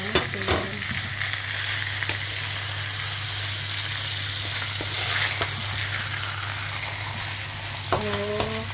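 Overnight-marinated pork steak sautéing in a pan: a loud, steady sizzle and crackle runs the whole way through, with a few utensil clinks near the end.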